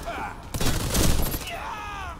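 Burst of rapid gunfire in a video game, dense and loud for about a second, then fading into softer electronic whooshes and game sounds; a voice is also picked up.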